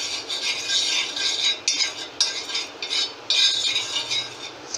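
Oil being spread with a spoon across a hot griddle while making moong dal chilla, a steady close scraping and rubbing with brief metallic clinks, continuous for several seconds with no talking.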